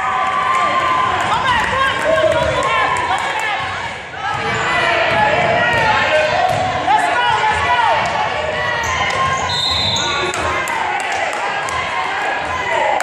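A crowd cheers and roars at a girls' high school basketball game after a tying layup. Loud, sustained noise mixes with sneaker squeaks, ball bounces and a commentator's voice throughout.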